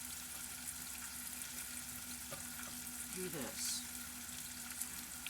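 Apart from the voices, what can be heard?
stirring meat sizzling in a pot for turkey noodle soup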